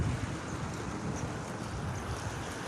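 Steady outdoor water in the morning, a broad continuous wash like surf or lapping waves with wind noise on the microphone, constant and moderately loud with no voices.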